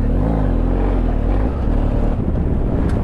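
A BMW GS motorcycle riding offroad in third gear on a training course, its engine droning steadily and rising in pitch at first, with heavy wind buffeting the microphone throughout.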